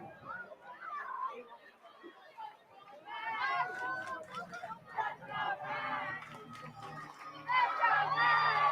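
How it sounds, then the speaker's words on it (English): Crowd at a Low-A minor league baseball game in Myrtle Beach, South Carolina on a Sunday evening, a steady murmur of chatter swelling into cheers and shouts, with nearby voices throughout. "Crowd backing Matt Hallback on a beautiful Sunday evening for baseball in Myrtle Beach, South Carolina"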